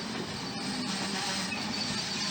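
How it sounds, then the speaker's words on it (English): Train at a station near Lake Como, a continuous close hissing rumble of railway cars rolling past with faint wheel clicks and no speech. "Now this is my train service back"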